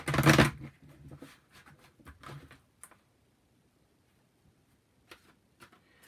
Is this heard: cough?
no